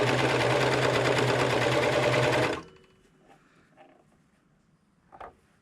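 A sewing machine stitches fabric around an elastic hair tie to make a scrunchie, a loud steady rapid whir running close for over two seconds before stopping abruptly, followed by faint handling sounds.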